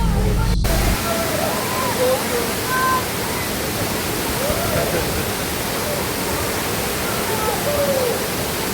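Matayupan Falls pours in a constant broad rushing roar, loud and steady throughout, with faint voices of people talking in the background.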